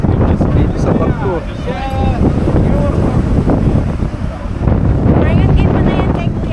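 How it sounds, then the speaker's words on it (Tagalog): Strong wind on a ferry deck near Victoria, British Columbia, buffets the microphone in a constant loud roar, with people talking over it. "Mahangin guys. Mahangin. Dito sa barko."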